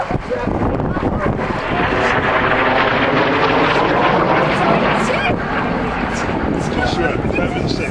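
A vintage combat aircraft flies over an airshow crowd, its engine roar loud and sustained across the whole stretch, with a commentator talking over it.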